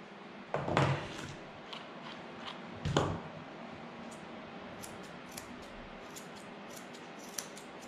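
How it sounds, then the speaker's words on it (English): Scissors snipping through matted Shih Tzu hair during grooming, a couple of close, crisp cuts near the start and again around three seconds, then quiet faint handling and small clicks. "so it would be easier for me to do it with scissors"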